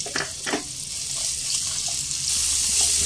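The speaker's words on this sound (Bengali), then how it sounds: "মিডিয়াম ফ্লেমে পেঁয়াজ 1 মিনিট ভেজে নেব।" Finely chopped medium-sized onion frying in a pan over a medium flame for a savoury appe batter, a steady close sizzle with a few brief clatters near the start.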